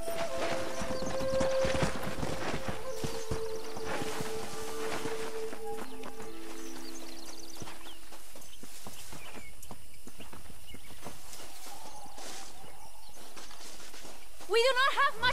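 In a Red Dead Redemption game scene, horses pull a stagecoach, their hooves clip-clopping in a steady, moderately faint rhythm beneath music and rolling wheels.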